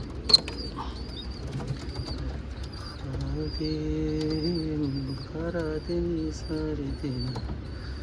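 Pigeons coo in soft, repeated rolling calls close by. Faint chirps and scattered small clicks and rustles sit underneath, along with a low murmur of background noise.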